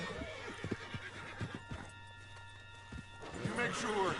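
A horse in Red Dead Redemption gallops with rapid clip-clopping hooves and lets out a whinny near the end, heard under voices talking.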